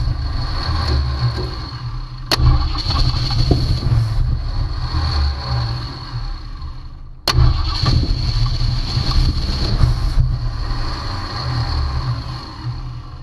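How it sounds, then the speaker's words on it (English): A 1965 Ford Mustang, straight-wired, cranks loudly and catches briefly in two attempts with a sharp click at the start of each, the engine sputtering and failing to stay running. "it wants to crank, but it won't stay running"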